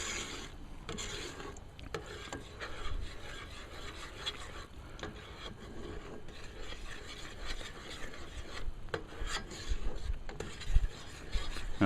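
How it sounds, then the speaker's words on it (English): A spoon rasps and scrapes steadily around a pot as citric acid is stirred into boiling Belgian candi sugar syrup, a continuous close-up rubbing with small clinks throughout. "I'm just going to stir that in."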